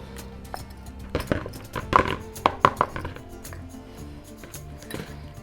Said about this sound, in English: We start by creaming together the butter and the sugar.